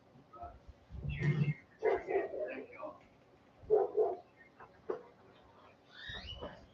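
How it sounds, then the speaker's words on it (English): A dog barks repeatedly in the background in short, uneven bursts, fairly distinct but mixed with voices talking in the room. "All you hear is my dog barking in the background."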